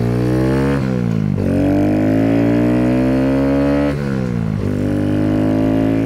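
A Kawasaki Z125 motorcycle fitted with an Empire Industries exhaust revs up loudly and close, its pitch climbing through a few quick gear shifts, with a raspy, buzzing note and no voices.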